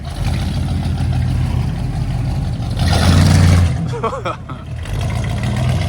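A big Cadillac from Oklahoma at an American classic car and bike meet in Reading, its engine rumbling and briefly swelling in a rev amid crowd noise and nearby talk.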